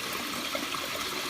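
Water bubbles and rushes steadily through a fish pond's moving bed filter, a continuous close churning and trickling wash with no break.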